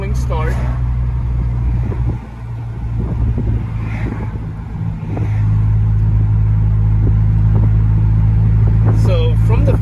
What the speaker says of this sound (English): I'm going to make a U-turn and accelerate kind of aggressively from a rolling start